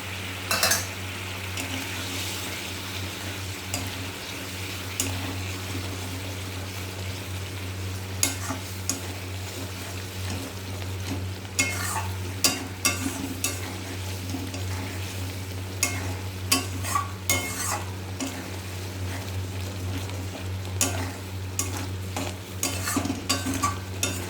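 An egg sizzles and is stirred in a frying pan, a steady frying hiss with repeated scraping and clinking of a utensil against the pan, close and continuous with no talk.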